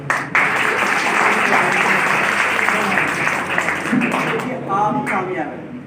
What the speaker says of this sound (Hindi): और आप अपने लिए एक ताली बजा दो